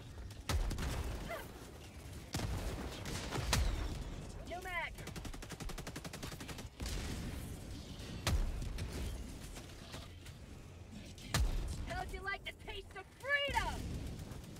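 In Helldivers 2, a railcannon strike and repeated gunfire hit a tank: heavy booming blasts every couple of seconds, bursts of rapid fire, and sharp whining impacts near the end, loud and close, with some talking mixed in.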